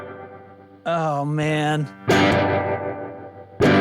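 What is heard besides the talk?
guitar amp tremaverb mode, tremolo and reverb effect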